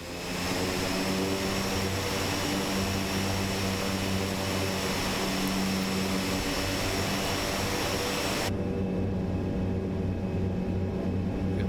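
In Microsoft Flight Simulator, an ATR 42's propeller engines spool up with a steady, loud drone and tonal whine, and the higher hiss cuts away abruptly near the end.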